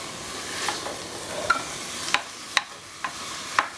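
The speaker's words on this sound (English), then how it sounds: "the first thing I need to do is brown the ground beef" Ground beef and onions brown in a pan, a steady broadband sizzle broken by several sharp utensil scrapes and taps as the meat is stirred, close and moderately loud with no talking.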